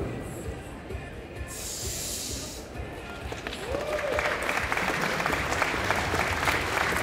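Audience at a 2016 Nordic Pro bodybuilding competition breaking into applause, a dense wash of clapping that swells and grows louder after a hissy crowd murmur, with a faint voice briefly over it.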